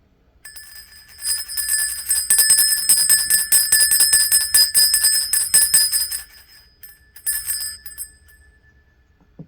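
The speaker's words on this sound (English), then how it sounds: "after we ring the bell" A small hand bell rung repeatedly in a fast, bright metallic jangle for several seconds, pausing briefly and then giving a short second burst; close and clear with no talking.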